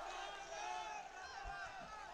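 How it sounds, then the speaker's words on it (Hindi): A large crowd at an outdoor political rally in Taranagar, Rajasthan, cheers and chants in a sustained roar of many voices, with a faint clapping texture underneath, fairly distant and steady. "जोरदार तालियों से आप ताली बजा के, अशोक गहलोत जिंदाबाद"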